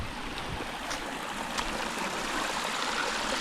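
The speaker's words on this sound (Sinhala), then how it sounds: "ආයෙ වතුර පාරක්" A small mountain stream on the Ella Rock hike trail, water rushing and trickling steadily over rocks, close and continuous with no voices.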